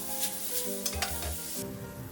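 Pork and cucumber slices stir-frying in a wok with oyster sauce, a steady crackling sizzle broken by a few scraping stirs of the spatula, close and continuous with no voices.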